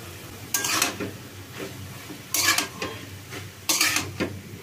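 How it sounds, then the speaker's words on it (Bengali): Broccoli being tossed into browned, cooked-down meat in a pan and stirred, giving three loud bursts of scraping and sizzle separated by quieter stretches of low frying. "এখন আমি এই ব্রোকলিগুলো দিয়ে দিব।"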